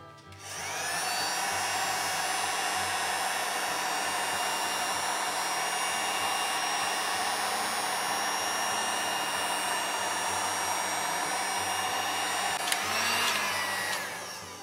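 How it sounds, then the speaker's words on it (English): A heat gun on its lowest setting blows steadily to remelt the top of a candle's wax, a continuous loud whooshing hum that starts and stops cleanly and runs alone without any voices. "what I do with the heat gun to fix the imperfections"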